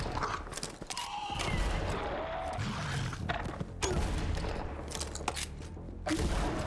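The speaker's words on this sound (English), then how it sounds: "Let's test this shotgun out." Shotgun blasts in the video game Borderlands 3, several loud, dense bursts of gunfire in quick succession amid clattering mechanical noise and game effects, no talking.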